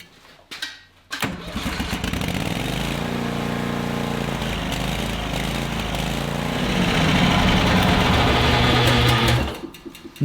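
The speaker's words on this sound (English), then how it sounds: "It doesn't want to run unless it's half choke." Old greens aerator engine running steadily on half choke after a short start, a loud, continuous mechanical drone with a busy rattling texture that grows slightly louder near the end before cutting off.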